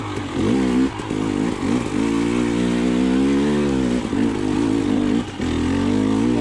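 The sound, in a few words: KTM TPI enduro motorcycle engine while riding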